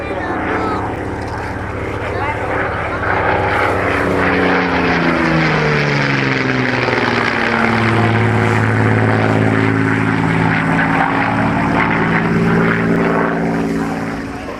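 A heavily modified Brazilian Embraer EMB 312 propeller trainer flying past at an air show. The loud engine and propeller drone swells and falls in pitch as it passes overhead, with a commentator's voice underneath.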